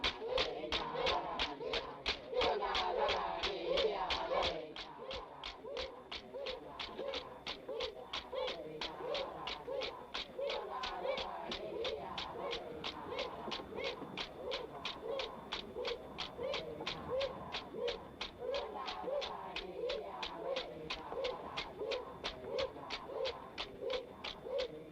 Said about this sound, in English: These are cockatoos.